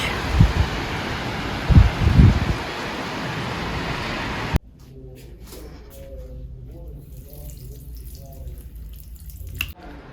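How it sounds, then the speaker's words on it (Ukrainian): Steady broadband summer rain downpour with a few heavy splashes for several seconds, then it drops to a quieter hiss with faint talking and clinks. "Вже і до нас дійшла злива."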